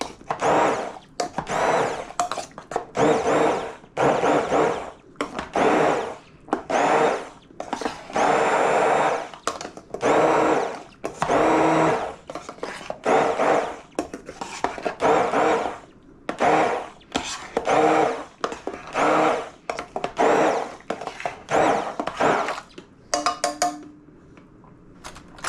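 A blender pulses charred salsa verde vegetables in about twenty short, loud, evenly spaced bursts, each a whirring grind separated by brief pauses, with the final pulses coming more sparsely.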